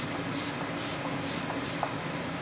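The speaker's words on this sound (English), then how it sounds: "little spray first and then try some." Several quick hissing bursts from a makeup fixing spray bottle, evenly spaced and close, over a soft steady background.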